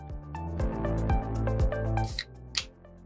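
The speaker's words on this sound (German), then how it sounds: "Als erstes entleeren wir die Dose." Cola glugs out of an opened drink can in rhythmic gurgling pulses, loud and close, the flow breaking up into a few final splashes and drips near the end.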